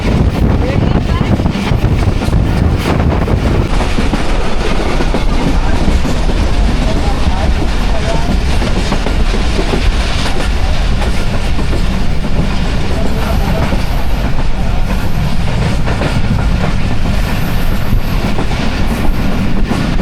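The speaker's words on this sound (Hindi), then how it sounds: "कोट सांबा रेलवे स्टेशन से स्किप कर रही है हमारी 43 शाह हुसैन एक्सप्रेस" The Shah Hussain Express rushes past Kot Samba station, a loud, close, continuous roar of rolling wagons with clattering wheels and wind buffeting, sustained throughout.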